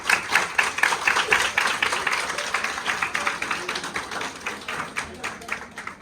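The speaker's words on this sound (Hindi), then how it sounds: "तो जितने साथी नए हैं पहले उनके लिए तालियां बजा लेते हैं" An audience at a Modicare gathering claps for new members in a steady, rhythmic pulse of hand claps, moderately loud, with a voice talking over the beat.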